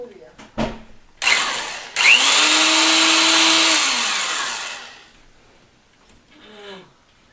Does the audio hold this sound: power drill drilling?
yes